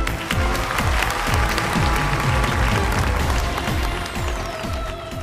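Applause on a televised duet singing competition show, broad audience clapping under booming music with low rhythmic beats.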